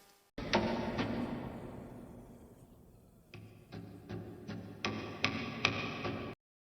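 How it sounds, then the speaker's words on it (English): Hammer blows like nails being driven into a coffin close out a metal album as an eerie effect: a heavy reverberant strike, a quiet lull, then a series of sharp knocks that build in loudness, near and prominent. "the song ends with some scary sound effects that sound like they're nailing a coffin"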